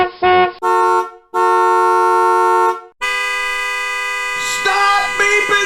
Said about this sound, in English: Let me beep my horn.